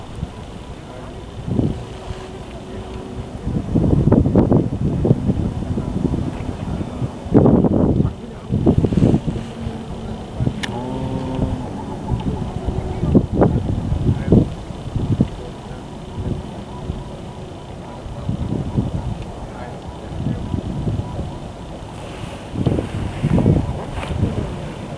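Wind gusts buffet the microphone outdoors at a freshwater carp fishing spot, rumbling in uneven surges throughout while someone talks over it.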